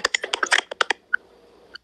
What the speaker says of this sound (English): it's a typing sound